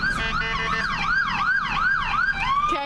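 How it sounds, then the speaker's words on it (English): An ambulance siren passes on the road, its loud wail rising and falling in a steady repeating sweep for about three seconds before it cuts away near the end, with no talking. "videotaping an ambulance"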